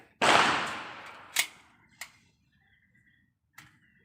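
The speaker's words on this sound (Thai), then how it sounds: "ผมจะขอยิงสามนัดลองปืนก่อนนะครับ" A handgun fires test rounds at a shooting range: one loud, sharp report with a long ringing decay, then a few fainter, shorter cracks spaced out over the next seconds.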